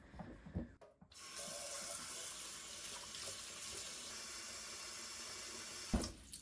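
Warm water runs from a tap into a sink during natural yarn dyeing, a steady splashing rush that starts after a few brief clunks and continues evenly, ending with a small knock.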